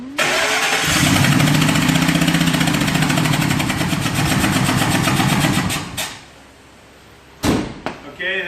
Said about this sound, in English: that's the classic sound of a blown spark plug on a Triton motor